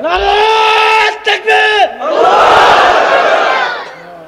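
A large gathering at an Islamic preacher's sermon shouts takbir in unison: loud chanted voices, a brief break with a couple of short bursts, then a sustained massed roar that fades at the end.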